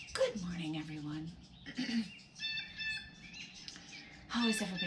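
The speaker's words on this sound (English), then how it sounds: "As you can hear the birds, I am outside." Birds chirp and tweet outdoors in the morning, bright repeated calls scattered through the background while someone talks over them nearby.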